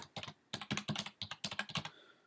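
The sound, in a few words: typing on a computer keyboard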